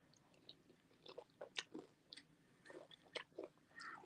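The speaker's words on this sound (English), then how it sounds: "I'm eating raisin nut bran" Someone chews raisin nut bran cereal, with soft, close crunches and bites that come in uneven bursts over quiet background.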